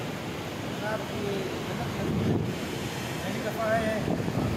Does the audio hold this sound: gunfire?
no